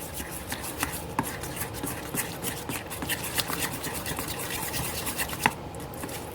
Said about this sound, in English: So I'm going to add that and mix it all up.